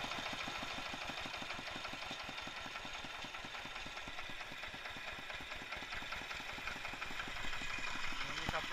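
Diesel engine with balancer technology idling, a fast even knocking pulse over a steady mechanical hum, close and consistent throughout, with no clear talking.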